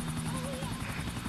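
A helicopter's rotor thumps steadily in Grand Theft Auto IV, a loud pulsing beat with a droning engine whine, briefly overlaid by a distant voice.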